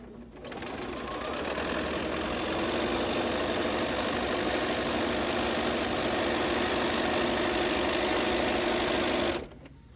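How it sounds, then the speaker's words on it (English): A sewing machine stitches a straight seam down the center line of flex foam fabric, a steady close whirring hum that starts abruptly, runs evenly for about nine seconds, then cuts off. "I am going to start, and I'm just going to sew down this center line."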